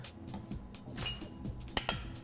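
A spoon clinks against a bowl while mixing diced pear with balsamic syrup, a few soft scrapes and two or three bright metallic taps, close and quiet.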